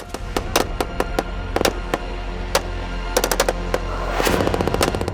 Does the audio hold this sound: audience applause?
no